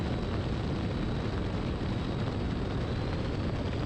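Inside a Zenith CH 750 Cruzer light sport kit aircraft in flight, loud, unbroken broadband engine and wind roar fills the cabin at a constant level.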